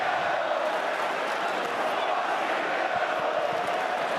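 Stadium crowd at an XFL North Division Championship football game rumbling in a dense, steady roar, a sustained wash of many voices with no clear chant rhythm.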